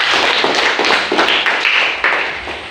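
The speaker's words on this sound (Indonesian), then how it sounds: "Oke, tepuk tangan." A school class claps hands together at the teacher's prompt, a dense, steady patter of many hands filling the room without pause, close and fairly loud.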